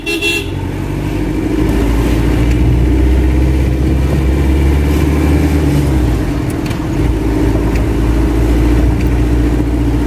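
A Foton View van's CRDI diesel engine, converted from computer control to manual, runs loud and steady nearby with a low, constant rumble and no talking.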